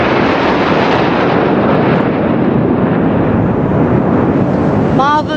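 Jet aircraft flying in formation past a Republic Day air parade near Bikaner at about 750 km/h, a loud sustained roar that fills the air throughout.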